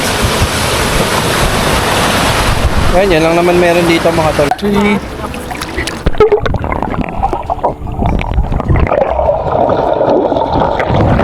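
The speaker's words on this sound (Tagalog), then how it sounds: "yung dagat nila, grabe yung alon" Surf at a beach resort on the coast of Real, Quezon washes and rumbles loudly and continuously, with someone talking and calling out over the roar of the waves.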